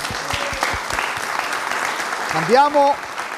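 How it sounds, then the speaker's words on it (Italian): An audience applauds on a local Italian television show, steady clapping from a crowd running throughout while a voice speaks over it near the end. "Facciamo un applauso alla Valletta"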